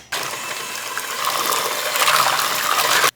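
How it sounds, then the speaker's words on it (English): A blender whirs through a pumpkin mixture with eggs for a Thanksgiving recipe, a continuous churning, sloshing roar that starts abruptly, builds slightly in intensity and cuts off sharply after about three seconds. "Now we're just gonna blend everything together."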